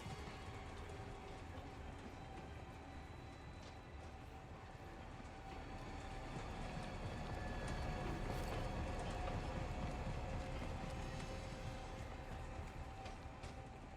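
Train rumble from Star Wars Jedi: Survivor, a steady rolling clatter of rail cars that swells louder midway and holds, continuous with no talk over it.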